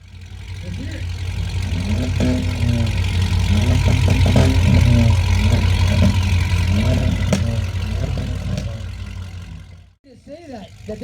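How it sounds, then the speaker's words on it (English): Loud exhaust on a Ford Mustang GT or Dodge Charger Hellcat at an outdoor car show exhaust competition, a deep steady rumbling roar swelling and easing over several seconds, then cutting off, with voices faint beneath. "this is a loud exhaust"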